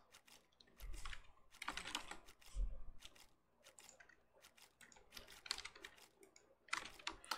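Rolling machines in a modded survival game pressing out plates, a busy stream of rapid mechanical clicks and clatters in uneven bursts, fairly close, with no talk.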